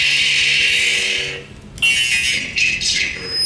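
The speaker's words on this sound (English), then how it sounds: "You have your Sith sound." Sith sound font on a lightsaber toy: a loud, steady electronic buzzing hum that cuts out briefly, then returns with a sharp crackling surge and a few flaring bursts.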